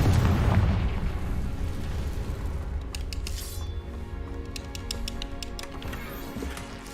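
Explosion spells Bombarda and Confringo cast in Hogwarts Legacy: a loud burst up front that decays into a rumbling wash, followed by a run of sharp glassy clinks and crackles scattering over the rest.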